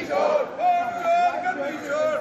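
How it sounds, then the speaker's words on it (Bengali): Opposition protesters outside Parliament chanting slogans in unison, rhythmic massed voices rising and falling in repeated phrases from a moderate distance. "ভোট চুরির অভিযোগে বিরোধীদের স্লোগান।"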